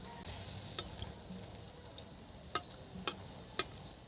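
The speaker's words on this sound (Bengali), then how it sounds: "শুকনো লঙ্কা দিয়ে দিলাম ফোড়নে," Dry red chillies hitting hot oil in a kadai for tempering a river boal fish jhal give a faint, steady sizzle, broken by a few sharp crackling pops toward the end.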